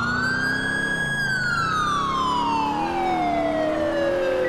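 A police siren wails steadily during a pursuit in the LCPDFR police mod, its pitch sliding slowly downward as the car passes, loud and close over a low engine rumble.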